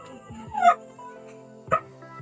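Dogs barking nearby, two short yipping barks about a second apart over a quiet background.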